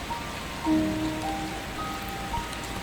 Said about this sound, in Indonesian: Suara hujan di luar menjadi latar yang menenangkan.